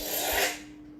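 Electrum Sabercrafts Aegis lightsaber switching off, a short, soft, airy retracting whoosh that fades out within about half a second, heard alone and quiet.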